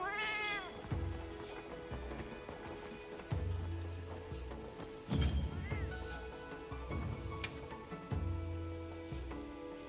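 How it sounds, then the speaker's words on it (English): Cats meowing in the cantina of Monster Hunter Wilds, several rising and falling meows over a busy game soundscape with music, clopping and horse-like whinnies, moderately loud and repeated across the scene, no speech. "Cantina cats!"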